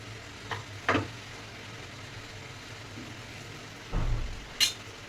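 Snake gourd palya frying in a pan, a faint steady sizzle with a few short scraping stirs of a spatula against the pan.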